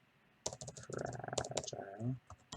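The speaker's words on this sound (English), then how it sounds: "I can type a little bit without looking at the keyboard, but not a whole lot" Keys clack on a computer keyboard in quick irregular bursts, close and fairly faint, while a person speaks over the typing.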